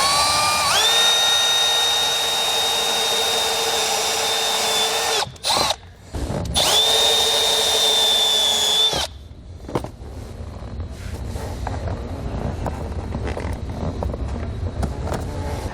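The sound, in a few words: step drill bit drilling dash panel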